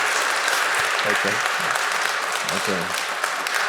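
A conference audience gives loud, dense, continuous applause that fills the room, and a voice briefly speaks over it.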